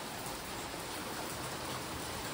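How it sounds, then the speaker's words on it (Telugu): Sudden rain falls in Hyderabad as a continuous broadband wash of noise, steady and even with no pauses or voices. "సడన్ గా వర్షం వచ్చేసిందండి."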